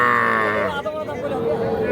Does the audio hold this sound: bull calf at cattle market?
yes